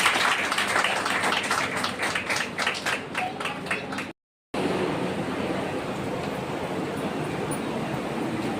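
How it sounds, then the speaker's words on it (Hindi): Audience at a community organisation's anniversary event in Indore, Madhya Pradesh, breaking into loud, sustained applause to welcome guests; the clapping runs for several seconds, cuts out briefly, then a dense crowd murmur continues. "जोरदार तालियों से स्वागत करें"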